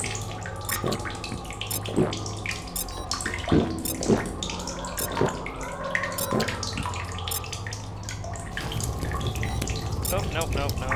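Running and splashing water in The Solus Project video game, a steady flowing stream with drips and clinks. Game music plays throughout and a voice talks briefly.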